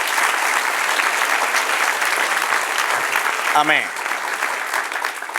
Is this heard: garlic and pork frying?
no